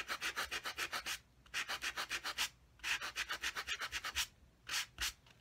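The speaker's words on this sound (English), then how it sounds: "that smudge I can use my sanding block on" A small nail-file style sanding block rubs a smudge off a paper card, making rapid, close, rhythmic scratchy strokes in four quick bursts with short pauses between them.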